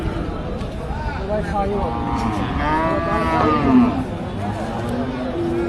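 A milk cow at a cattle market lets out a long, loud moo lasting a couple of seconds, with people talking and crowd murmur all around it.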